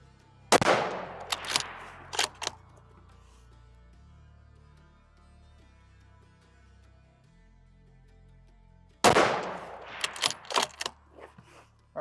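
Ruger Precision Rifle in 6.5mm Creedmoor fired outdoors at a range: a loud sharp report followed by a few rapid echoing cracks, then silence, then a second shot with the same echoing tail.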